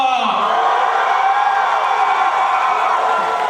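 Large audience at a live stage show cheers and screams for a team, a dense, loud, sustained wall of crowd noise with whoops throughout.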